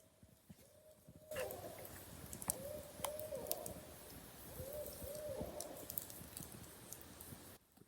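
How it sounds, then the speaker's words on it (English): An owl hoots repeatedly from across a campsite, several low rounded calls over a steady crackling campfire burning close at hand, in Killarney in October. "Got an owl right across from my campsite. I hope you heard that."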